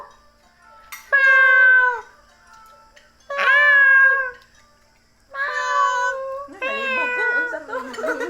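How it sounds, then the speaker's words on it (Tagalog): A cat meows four times in separate drawn-out calls, each clear and close, with short quiet pauses between them and the last call roughening toward a yowl. "Meow. Cat."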